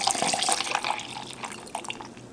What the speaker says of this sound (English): So we have our cup here, pour in your espresso.